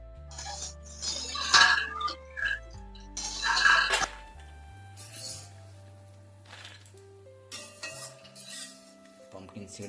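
Roasted cashews are scooped out of a pan with a metal spoon while dry-fruit laddoos are prepared, producing close, intermittent scrapes, clinks and rattles of spoon against pan in irregular bursts separated by short quiet gaps.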